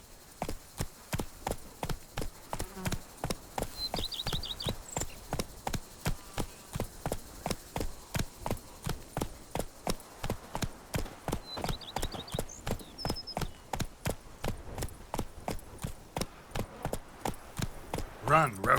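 A horse's hooves in the video game The Witcher 3 clip-clop at a fast, steady galloping rhythm, close and continuous, with faint game effects and a voice talking over them.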